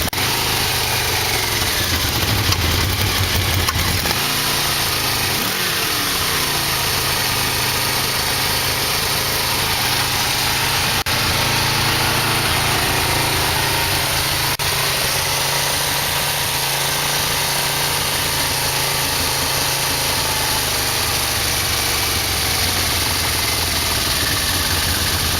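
A Yamaha V-Max motorcycle engine idles steadily after a carburetor sync, a continuous close, even mechanical burble with light vibration running the whole time.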